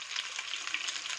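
Garlic and quail pieces frying in olive oil in a pan, a steady close sizzle and crackle throughout with no voices.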